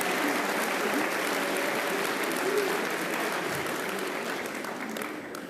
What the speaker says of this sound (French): qu'on l'applaudisse encore un peu plus fort que ça